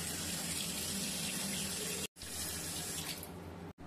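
Water runs steadily from a kitchen tap while hands are washed after cutting chillies, a close, continuous splashing hiss into the sink, briefly cut off twice, with no talking.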